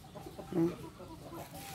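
Farm chickens clucking in a short, faint burst, a couple of soft clucks over quiet background.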